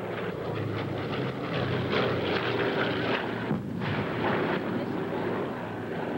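Loud, steady roar of vintage warbird propeller airplanes flying overhead at an airshow, a broad rumbling drone that swells and holds throughout.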